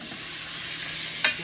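Ingredients including pumpkin sautéing in a pot for Dominican-style red beans, a brief steady sizzle with one sharp stirring scrape near the end.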